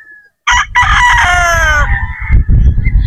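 A Gilmore gamecock rooster crowing once, loud and close, a full cock-a-doodle-doo followed by scuffling and low clucks.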